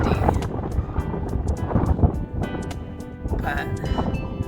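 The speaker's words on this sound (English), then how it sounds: "it's really windy" Wind buffets the microphone in a continuous low roar with gusty swells, while a person talks throughout.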